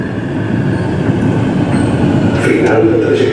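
Barcelona metro train on line L9 rolling at a station, a steady rumbling ride noise with faint rail clatter and brief squeals near the end, under a recorded announcement voice.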